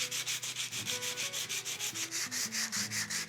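Rough 60-grit sandpaper worked by hand across bare wood during stripping, a steady rhythmic back-and-forth rasp of about a dozen strokes, close and clear with no talking.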